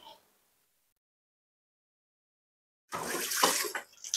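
Running water at a kitchen sink while dishes are washed, a near, loud rushing splash that starts abruptly after a long silence and keeps going to the end.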